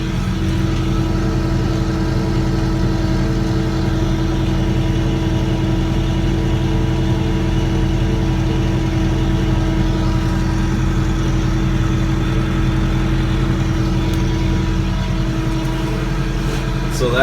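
A tractor engine runs steadily at a low, throbbing idle, loud and close, during soybean cultivation, with its pitch dipping slightly near the end.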